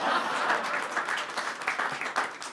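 An audience at a Hindi kavi sammelan poetry event applauds. The clapping is dense and sustained, fairly close, and swells and dips in waves, with faint crowd murmur underneath.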